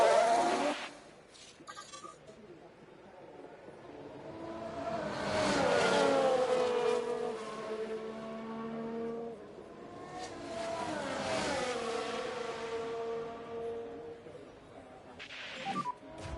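F1 race cars accelerate off the line at a race start in the F1 Manager 23 video game, rising engine whines that climb through the gears in repeated waves, moderately loud and fading between surges.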